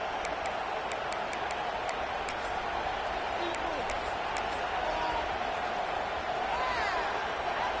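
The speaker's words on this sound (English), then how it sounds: "This crowd still bringing the intensity to open the second half." Roaring football stadium crowd at the start of a second half, a steady dense wash of cheering and noise held at an even loud level throughout, with faint ticks and claps scattered above it.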